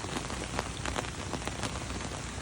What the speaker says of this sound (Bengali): সেপ্টেম্বর মাসেও এত বৃষ্টি হইতেছে,